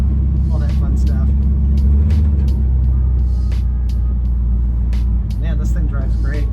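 A 1966 Chevrolet Impala fitted with air suspension cruises along with a constant low engine and road rumble, while someone talks over it throughout.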